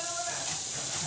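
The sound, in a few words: pressure cooker hissing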